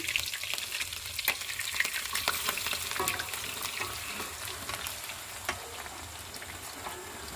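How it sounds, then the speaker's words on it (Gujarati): Dhokla pieces tossed and stirred in hot oil tempering with mustard seeds and chillies give a steady, close crackling sizzle with scattered spatters and utensil scrapes, no voices. "આપણે આને ઢોકરાને નાખી દીધા છે અને હવે છે ને તેલમાં સરખી રીતે આમ હલાવી નાખવી"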